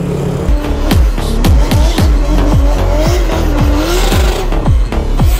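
Tuned cars and go-karts drifting at a drift championship in Derbent district, loud engines revving hard with repeated sharp tire squeals and skidding bursts, close and continuous throughout.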